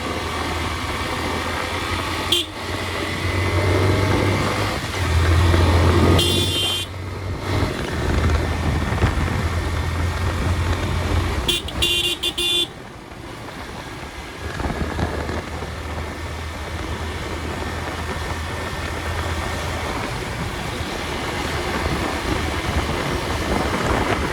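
Motorcycle riding on a cold late-afternoon winter road, a steady engine drone with wind rush, shifting slightly in pitch as the bike cruises, with a few brief bumps and dips in level.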